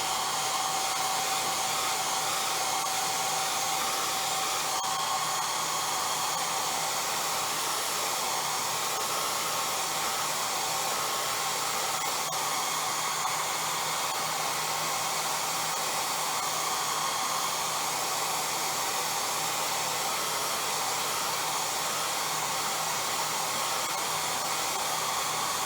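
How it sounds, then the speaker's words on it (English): A hair dryer blows steadily on a drying watercolor painting of shrimpers' docks, a continuous close, even rushing whir that runs without a break the whole time, with no voices over it. "give it another shot of the hair dryer, so you're going to hear more sound here."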